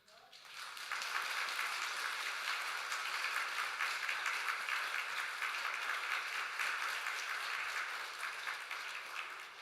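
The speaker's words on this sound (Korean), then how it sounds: "서 있는 교사들까지 포함해서 다 함께 우리 박수로 전달하도록 하겠습니다" A church congregation at a Sunday service, teachers standing among them, applauds as gifts are handed over: dense, even clapping swells in after a brief quiet start and holds steady throughout, fairly distant and soft.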